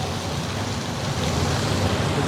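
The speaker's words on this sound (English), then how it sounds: "I just put about 2 pounds of shrimp in here" About two pounds of ʻōpae shrimp fry in hot oil, giving a dense, steady, close sizzle that holds at an even level throughout with no voices.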